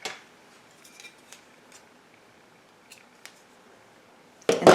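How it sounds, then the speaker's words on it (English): Sharp scissors snip through crochet yarn in a few faint, quick cuts, followed by a louder clatter at the very end. "So you're going to take and cut the previous colored yarn."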